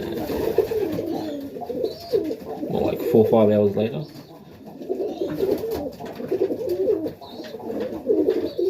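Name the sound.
pigeons cooing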